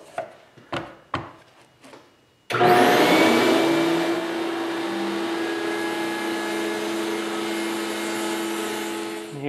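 After a few sharp taps, a router spindle spins up abruptly and cuts an edge-lit plexiglass panel, holding a loud, steady high-pitched whine with a rushing cutting noise close by.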